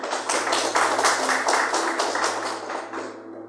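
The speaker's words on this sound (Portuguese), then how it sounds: "Palmas para Jesus, amado." A church congregation claps for Jesus during a Portuguese-language sermon, a loud, dense round of applause with some rhythmic pulsing that thins and fades out toward the end.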